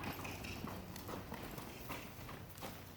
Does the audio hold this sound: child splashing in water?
no